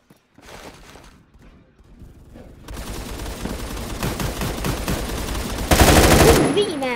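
Gunfire from the video game Phantom Forces comes as rapid automatic bursts, sparse at first and then dense and loud, peaking in an intense stretch near the end.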